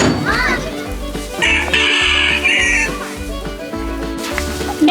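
Farm chickens cluck and crow as they are called out to sunflower seeds, with repeated close calls over a rhythmic low thumping and a voice in the background.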